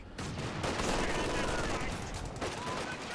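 Infantry support gun fire during a Company of Heroes 2 match, heard as a loud, dense barrage of gunfire and blasts filling the whole moment, with faint talk underneath.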